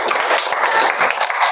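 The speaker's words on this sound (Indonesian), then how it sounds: "Tepuk tangan semuanya." A classroom of students claps together in a brisk, close round of applause, dense and fairly loud, with no one speaking over it.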